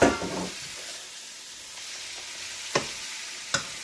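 Mutton pieces tipped into a pan of sautéed tomato masala, giving a steady sizzling fry with a stir at the start, then a continuous soft hiss broken by two brief clinks or scrapes near the end.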